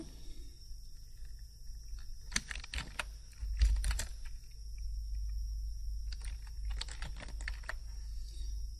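Computer keyboard typing into a Microsoft Word document, arriving in two or three quick bursts of close clicking keystrokes over a steady low hum, with no voices.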